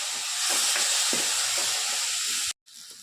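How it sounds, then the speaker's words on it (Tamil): Tamarind water poured into sautéed okra for vendakkai pachadi sets off a loud, steady hissing sizzle that runs for a couple of seconds, then cuts off abruptly before a quieter bubbling resumes. "கொஞ்சமாக புளி கரைச்சி ஊற்றணும்."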